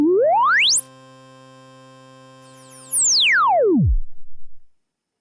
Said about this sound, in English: We can control cutoff frequency and resonance.